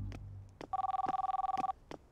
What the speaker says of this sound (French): Tu devrais changer ta sonnerie.